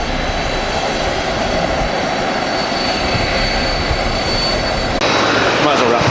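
Engine noise from an Atlas Air aircraft at Manchester Airport forms a steady, moderately loud rumble, with a voice talking over it and a brief shift in tone near the end.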